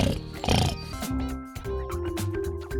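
Cartoon pigs oink over playful music from a children's animated tale of the three little pigs, several snorting grunts close up.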